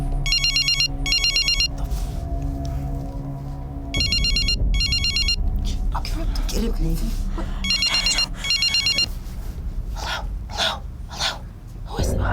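Telephone ringing from inside a bag, bursts of electronic ringtone repeating in pairs over a background of music and ambience, with people talking over and after the rings.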